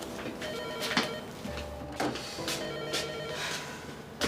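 A telephone rings indoors in repeated bursts, a bright electronic trill with short pauses between rings, fairly close and with no one speaking over it.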